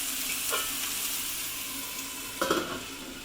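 Onions frying and caramelising in a pan, a loud continuous close sizzle with a couple of brief stirring scrapes, one near the start and a stronger one near the end.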